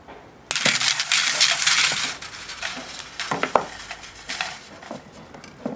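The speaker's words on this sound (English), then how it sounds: "When I get to the very end of the bar, all I have to do is snip my wire." Metal clinks and crunches as wire is snipped at the end of a chain mail ring jig bar, a dense run of bright jingling rattles with a sharp snap near the middle, close and fairly loud.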